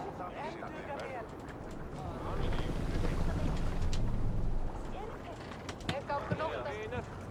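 Oars sweeping through water as a Viking longboat is rowed in Assassin's Creed Valhalla, with splashing strokes and wind over the sea, swelling in the middle, mixed with voices talking and shouting.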